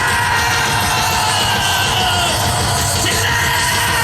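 A large crowd at an outdoor rally in Daegu protesting against President Yoon Suk-yeol's impeachment roars and yells continuously, a loud dense wall of shouting with no pause.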